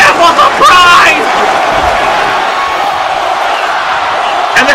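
Arena crowd at a live professional wrestling show roars and cheers loudly, a dense wash of voices with shouts rising over it, sustained throughout and swelling near the end.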